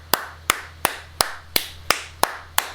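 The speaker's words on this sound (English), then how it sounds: "they clapped. You heard it in the background." Eight sharp, evenly spaced claps about every third of a second, each a crisp broadband hit fading quickly, heard alone over a steady low hum.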